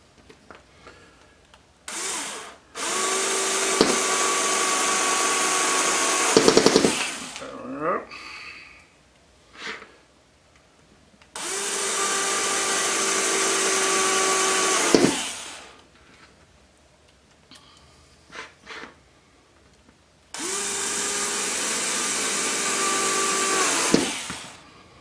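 A small cordless power driver sets long screws into a QuadLugs expansion kit, three sustained whirring runs of a few seconds each that rise in strain toward the end of each run, separated by quieter handling noises.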